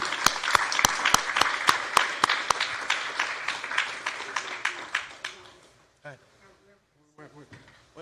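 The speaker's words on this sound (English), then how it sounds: "I'll invite her up now and lead the applause for her" Audience applause for a speaker at a public conversation event, sparse individual claps in a quick rhythm that thin out and fade, followed by a few words of speech.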